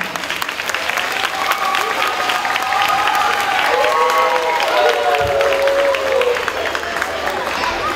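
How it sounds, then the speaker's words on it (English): A school audience at an African dance and drum arts event bursts into loud, sustained applause with cheers and high whoops for a guest artist, while children shout over the steady clapping. "give a big round of applause for our guest artist"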